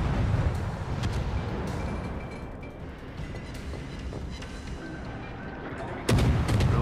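Ship guns fire in the naval game World of Warships, with salvos booming over a rumbling sea and engine background. A heavy blast comes near the end and a voice talks faintly underneath.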